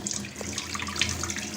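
Tap water runs steadily while oily residue and kumkum are washed off a brass puja lamp, a continuous close splashing with no talk.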